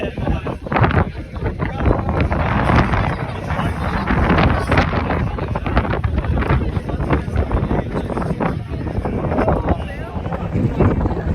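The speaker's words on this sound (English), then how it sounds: "I don't know if you'll be able to hear this because of the wind, but Will and I are at the top." Strong wind buffets the microphone at a mountain summit near Hobart, a loud continuous roar with gusty swells filling the whole stretch, masking any voices beneath it.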